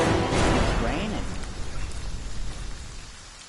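Rain pattering in the Friday the 13th video game, a steady hiss of falling drops under a voice speaking and a low rumble that fades.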